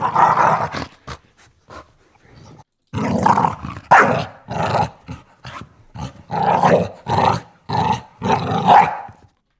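A dog snarls and growls in quick aggressive bursts, with sharp yelps mixed in, loud and close, pausing briefly before a second vicious flurry.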